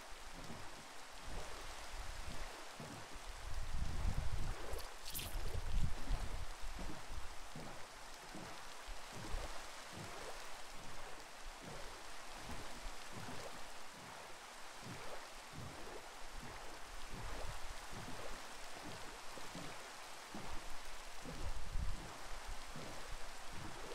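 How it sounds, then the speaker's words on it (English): Minecraft rain falls as a continuous hiss with soft, repeated patter pulses across the whole stretch. The level stays moderate and steady, with a brief louder swell early on and no voices. "Even if the fucking rain's annoying."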